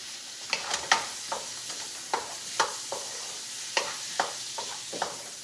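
Vegetables for a stir fry sizzle in a pan while being stirred, with repeated scraping and clattering strokes over a steady soft frying hiss, heard close with no talking.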